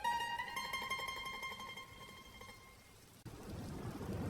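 Light drizzling rain in a cartoon picnic scene during the rainy season: a tonal musical passage fades out, then a steady, close broadband hiss of rain fills the final second with no voices.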